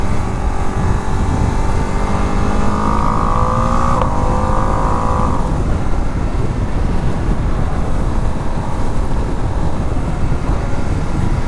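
2025 Ducati Panigale V2 motorcycle on the road, a loud constant engine roar with rising and falling revs and intake induction noise under heavy wind rush.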